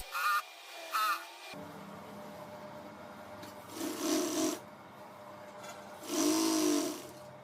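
A sewing machine stitches the side of a mattress cover in several whirring bursts. Two are brief, and the last runs longest and loudest, close up with no talking.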